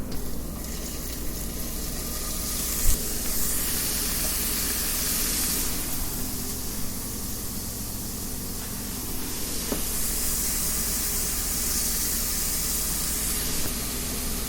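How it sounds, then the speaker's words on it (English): Shrimp sizzling in a hot pan for garlic shrimp pasta, a loud, steady hiss and spatter close up that runs continuously, with a brief clink near the start. "we're going to move on to the next step, which is adding the shrimp"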